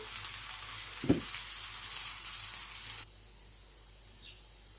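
Msemmen pastry dough cooking in a pan gives a steady sizzle, with one short knock about a second in; after three seconds the sound cuts to quiet room hush.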